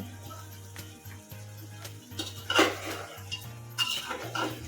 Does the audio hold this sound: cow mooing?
no